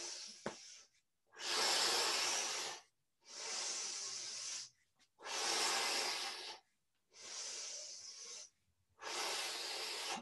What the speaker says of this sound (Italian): sentitevi respirare.